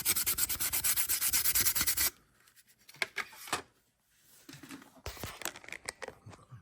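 Sand is rubbed off a painted RC truck body being given a patina finish. A loud, steady scrubbing rasp gives way to quieter, intermittent scraping strokes, all close up.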